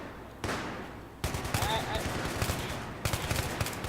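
Burst gunfire in the Battlefield 3 video game, rapid cracking volleys in short repeated bursts that dominate the mix, with a voice talking underneath.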